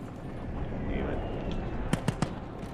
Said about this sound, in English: Oh, I just airstruck myself.